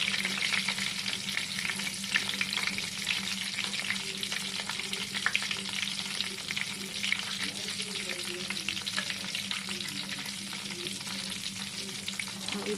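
Rice cheese balls with a coating deep-fry in hot oil over medium-high heat, producing a continuous bubbling crackle and sizzle that holds steady and fairly close throughout.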